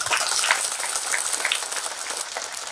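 Clapping from a village audience at a spiritual discourse in Garha Rampur, a dense, steady patter of many hands heard fairly close, carrying on evenly without any voices over it.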